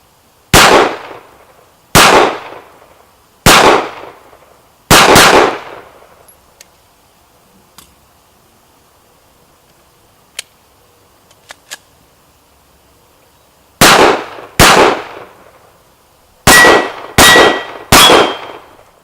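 Shots from an H&K VP9 pistol ring off steel targets in sharp bursts: a spaced run of single shots, a quiet pause with faint clicks, then a faster cluster of double taps at close range, each shot followed by a short ringing decay.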